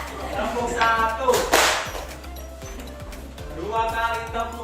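A classroom of children doing a rhythmic clapping game, with sharp hand claps and loud voices chanting in unison throughout.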